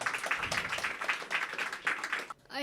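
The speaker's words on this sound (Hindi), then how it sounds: "ज़ोरदार तालियां" Audience applause at an open mic event, a dense steady patter of clapping from a crowd that stops abruptly near the end.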